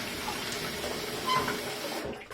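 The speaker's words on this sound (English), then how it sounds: "Pardon the running water." Tap water running steadily into a sink, a continuous close hiss and splash that holds level for about two seconds before cutting off with a small clunk.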